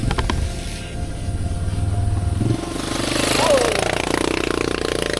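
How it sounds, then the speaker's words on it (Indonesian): A motorbike engine roars close by on a mountain trail road, rising and shifting pitch as it speeds past, with its loud buzzing drone filling the scene and people talking nearby. "Motor yang ngebut guys"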